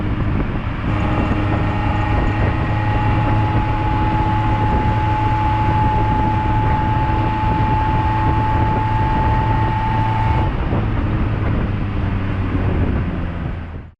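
A 1991 Toyota Camry engine drones steadily under full throttle while climbing a steep hill at highway speed, a loud constant hum with road and wind roar that holds even before cutting off abruptly at the end.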